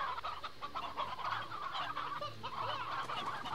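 Hens in the video game Slime Rancher cluck and honk steadily in a busy chorus, moderately loud, with a low background hum underneath.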